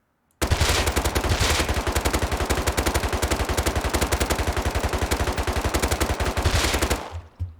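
Rapid sustained automatic gunfire from an MP5 fitted with a muzzle boost in the game Rust, a loud unbroken burst of evenly spaced shots lasting about six and a half seconds before cutting off.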